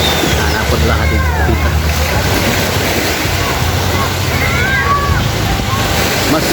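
Steady sloshing and splashing of fresh water as people bathe, a continuous wash of watery noise with faint voices mixed in.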